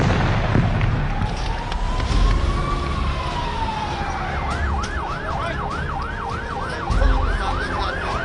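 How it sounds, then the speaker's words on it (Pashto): Ambulance sirens wail after a bombing in Kabul: a rising tone gives way to a rapid repeating yelp, heard over loud street noise and commotion. "د امبولانسونو ترخو غږونو"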